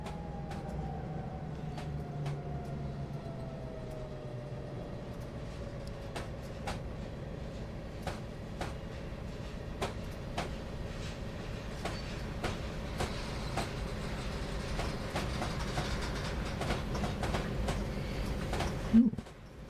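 Train running gear grinds and clatters in a Rio Grande Tennessee Valley train simulator game, a steady rumble with repeated rail clicks and a faint squeal, continuous and moderately quiet.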